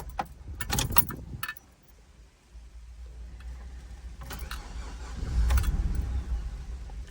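Keys jangle close by, then a flood-damaged Chevy S10 Blazer engine cranks in rough, low bursts without catching and running.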